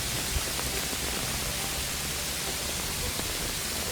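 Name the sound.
hailstones falling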